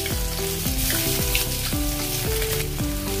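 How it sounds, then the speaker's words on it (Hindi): Garlic ginger paste sizzling and frying in a little hot oil in a kadhai, a steady close crackle with rhythmic stirring scrapes, no talking. "अभी इसमें हम लहसुन अदरक का पेस्ट डालेंगे।"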